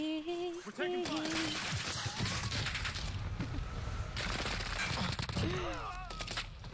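Gunfire in Warzone: bursts of shots crackle under voice chat and in-game radio calls, fairly loud and busy throughout.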